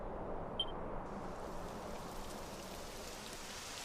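Steady rain falls in a Dragon Quest XI game scene, a continuous soft hiss of drops with a brief high beep near the start.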